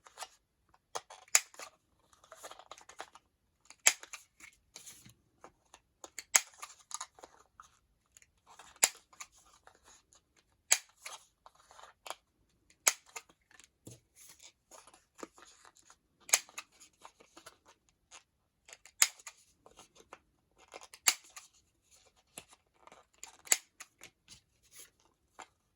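Scissors snip repeatedly as the corners of small paper journaling cards are rounded off, giving many short, crisp cuts in irregular bursts, close and fairly quiet, with no talk.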